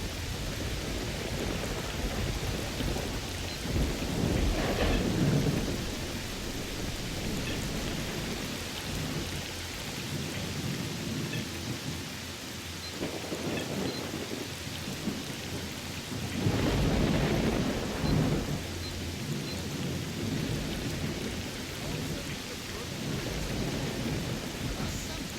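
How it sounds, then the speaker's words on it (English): Thunderstorm in S.T.A.L.K.E.R. Shadow of Chernobyl: a constant wash of heavy rain with two or three deep thunder rolls swelling and fading across the stretch, no voices. "That's pretty intense, though. This storm is pretty bad."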